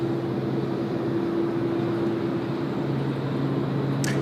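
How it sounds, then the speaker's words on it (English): A Qantas Airbus A330 airliner taxies at Sydney Airport with a steady engine hum and a low droning tone that holds throughout, heard from a distance without letup. "Qantas A330 just northbound there on taxiway Alpha, about to pass the dogleg turn."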